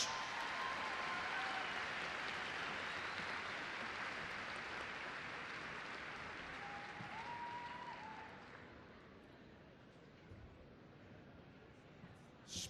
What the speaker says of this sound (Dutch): Geef ze nog een daverend applaus.